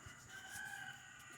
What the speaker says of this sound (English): Oh, the buds are crowing.